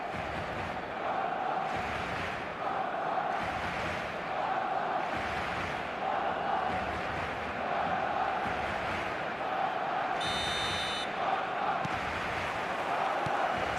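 Stadium crowd in the eFootball video game, a steady loud roar of massed voices with rhythmic swells and chant-like surges throughout, and a brief high electronic tone near the end.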